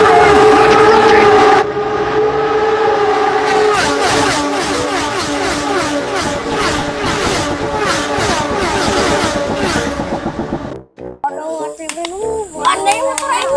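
Motorcycle race engines roar and whine past in rapid succession on the final lap at Valencia, loud buzzing revs overlapped by an excited commentator's voice, ending with a brief break and faint clatter.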